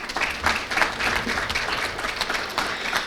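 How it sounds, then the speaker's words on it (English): Applause fills a school board meeting room as an audience claps steadily and evenly for a few seconds. "So if all of you would please give a round of applause for our amazing"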